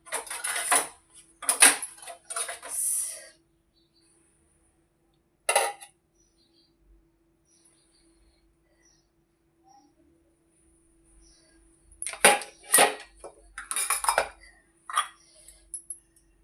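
Coconut milk khandvi being cut on a plate gives short clinks and scrapes of a utensil against the plate, several quick taps at first, then a long near-silence and another cluster of clinking.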